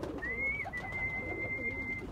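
A pigeon or dove gives a single faint, drawn-out call lasting nearly two seconds over quiet outdoor background noise.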